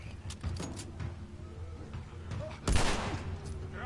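Gunfire from The Last of Us game: a sharp, loud shot bursts out near the end, preceded by scattered smaller impacts and clicks over a low rumbling background.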